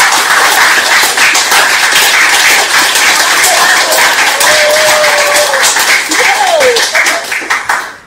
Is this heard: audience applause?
yes